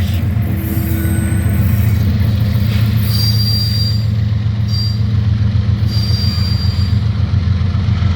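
A CSX train led by Western Maryland heritage locomotive 1852 rumbles past loudly and close on the Loop Creek Branch at Thurmond, with a heavy rhythmic low drone and high-pitched wheel squeals cutting in and out.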